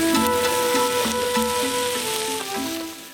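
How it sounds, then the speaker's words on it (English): Shrimp, beef and chicken stir-frying on a hot restaurant griddle give a loud, dense, continuous sizzle with faint scraping and clinking of utensils mixed in, and no talk. "That sound you hear is the sizzling of shrimp, beef, chicken, all made to order for you."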